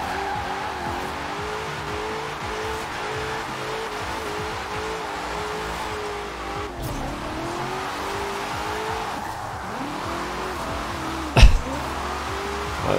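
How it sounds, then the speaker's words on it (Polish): A Ford F-100 drifts on a wet road in Forza Horizon 4, its engine droning with rising and falling revs under long tire squeal, a sharp knock near the end, no talk. "na mokrej takiej nawierzchni to chyba każde auto driftuje"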